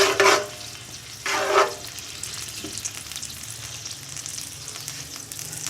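Onions sautéing in a pan while beef paya is cooked, giving two short bursts of sizzling frying near the start, then a quieter steady background with faint stirring.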